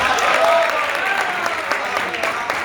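Loud, dense applause from the audience at a folk music program in a Swaminarayan temple in Melbourne, steady clapping close by with no break.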